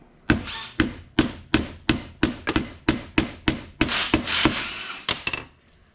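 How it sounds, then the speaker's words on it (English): A hammer taps a supplied ORB suspension bushing into place on a 2021 Polaris Pro XP 4, about fourteen sharp, fairly evenly spaced close knocks that crowd together toward the end, with no talking. "set this facing down, give it a little tap"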